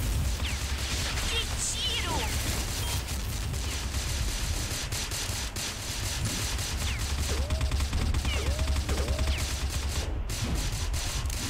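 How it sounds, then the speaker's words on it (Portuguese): Machine gun fire in the online shooter CrossFire, dense rapid bursts of shots continuing throughout, with a voice talking over parts of it. "Cara, pelo menos a metralhadora aqui ajuda"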